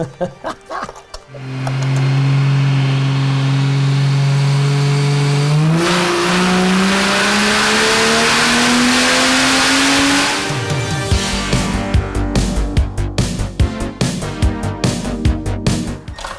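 A boosted Holden fitted with a Barra engine runs loud and close, idling steadily, then revving up with a climbing, strained tone before the revs drop back into a rough, pulsing idle.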